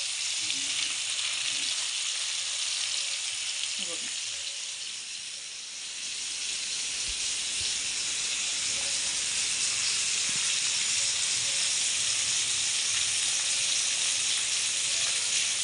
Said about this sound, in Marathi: फ्राय करायला घ्यायचं आहे म्हणजे आणि मिडियम आचेवर ठेवायचे